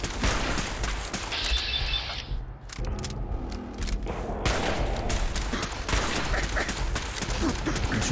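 Loud, sustained automatic gunfire from a turret in Fallout 4 on PC, with dense rapid bursts and a brief lull partway through.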